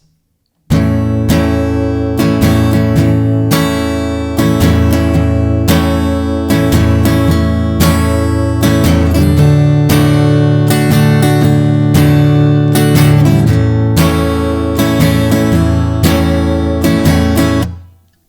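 Steady rhythmic strumming of chords on an acoustic guitar, loud and close, with bright downstrokes repeating in a regular pattern before ringing out at the end.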